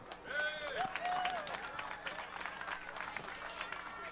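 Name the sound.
audience applause at band festival ceremony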